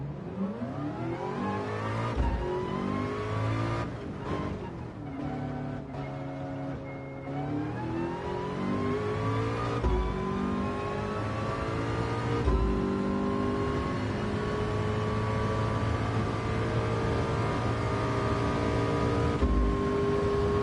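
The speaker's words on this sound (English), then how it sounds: "Oh god, this car makes a pretty sound." A car engine revs up and down repeatedly, its pitch climbing and dropping through the gears, loud and steady throughout with no talking.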